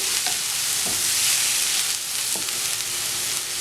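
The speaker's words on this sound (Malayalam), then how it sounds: "ഇങ്ങനെ തന്നെ ഈ എണ്ണയ്ക്കകത്തൊന്ന് വാട്ടിയാൽ മതി" Cluster beans for a Kerala-style thoran sauté in hot oil in a pan with a steady, close sizzle, broken by a few scraping stirs of the spoon.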